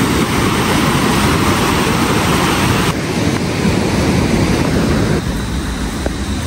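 Loud, steady broadband rush of the Triyuga river running high after a recent flood, continuous turbulent flow with no voices, shifting slightly in tone partway through.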